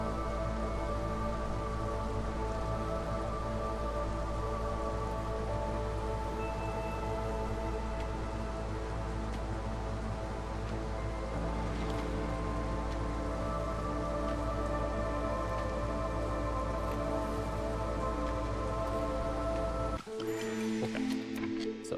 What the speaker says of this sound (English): Drizzle begins